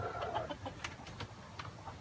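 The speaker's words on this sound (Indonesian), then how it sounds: "Nah, kita masuk ke kandang ayam." Chickens cluck in short bursts inside a coop against a steady low background hum, several birds close by and fairly quiet.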